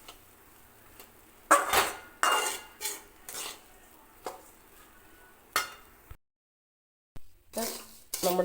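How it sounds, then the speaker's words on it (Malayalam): A spoon stirs and scrapes a coconut and rice flour mixture roasting in a pan for avalose podi, giving irregular scraping strokes and clinks against the metal with quiet gaps between. "ഇടവിടാതെ ഇങ്ങനെ അടി പിടിക്കാതെ ഇളക്കി കൊടുക്കണം"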